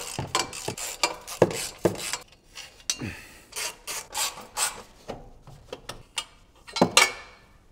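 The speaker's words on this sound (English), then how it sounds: "I'm gonna unbolt it from the headers, then in the back, and then in the middle" Wrench work unbolting the exhaust from the headers underneath a supercharged V8 BMW Alpina B7, with irregular metallic scrapes, ratchet clicks and rasping bursts at close range, separated by short quiet gaps.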